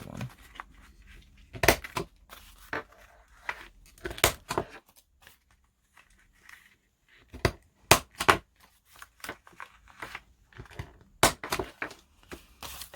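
A corner rounder punches through paper book page tags in sharp, loud clacks, single and in quick pairs, scattered irregularly with quiet gaps between.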